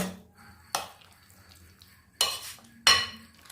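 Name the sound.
stirring and mixing chhena cake ingredients in a pot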